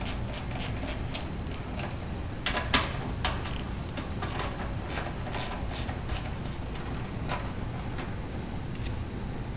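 Close ratcheting on a motorcycle, a ratchet backing out bolts near the petrol tank during starter motor work: uneven runs of light clicks and ticks over a steady noisy background, with no one speaking.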